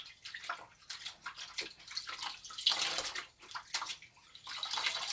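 Water with bleach splashes and swishes as a floor is mopped in a home entryway by the front door, an uneven, close wet sloshing that rises and falls without talk.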